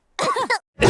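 A person gives two quick, harsh coughs close up, followed after a short pause by a third rough cough.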